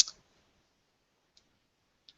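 A few isolated keyboard key clicks, one sharp tap at the start, then two faint single clicks spaced well apart, close and quiet with near silence between them.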